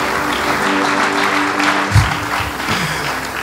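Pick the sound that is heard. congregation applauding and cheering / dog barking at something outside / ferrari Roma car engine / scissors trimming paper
congregation applauding and cheering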